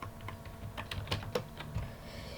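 Typing on a computer keyboard during a Minecraft-style PvP server session, a short irregular run of fairly close key clicks and taps at moderate volume, with no talking.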